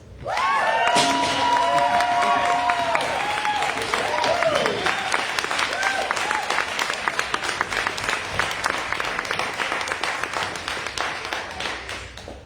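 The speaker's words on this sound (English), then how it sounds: "Our next reader is not a first-time reader, but is a reader that deserves a very warm round of applause." An audience at an open mic reading breaks into loud, sustained applause with some cheering. The clapping starts abruptly and fades gradually over about ten seconds.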